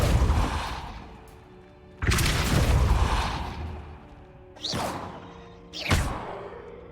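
Spell being cast in the video game Hogwarts Legacy: four sharp whooshing bursts with a booming impact, two broad and heavy, two shorter and brighter, each swelling then fading, with no talk.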